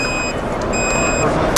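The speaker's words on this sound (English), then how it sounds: "that's the escalating alerts letting me know that, hey, I still haven't connected to my fall arrest system" A fall arrest safety system at a supply chain trade show sounds escalating alert beeps, steady pure tones repeating in two clear bursts over loud hall noise and nearby talk.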